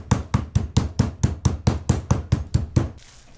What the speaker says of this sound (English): Now I'm going to give my meat a solid pounding. A trusty meat mallet.